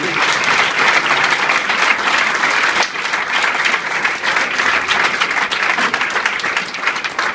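Loud, dense applause from a church congregation praising the Lord, sustained clapping filling the whole stretch with a brief dip midway.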